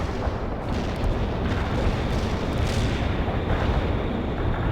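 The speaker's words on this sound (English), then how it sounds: "Launching a barrage in the strike zone." Continuous rumbling roar of an artillery barrage in the World in Conflict video game, a dense wash of distant explosions blending into a loud, unbroken thunder with no pauses.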